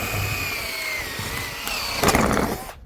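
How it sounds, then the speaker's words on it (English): A power drill with a 3/16 bit bores out rivets on an RV power awning, a steady close whine that rises into a louder grinding burst near the end before cutting off. "We'll just drill out all three of the rivets."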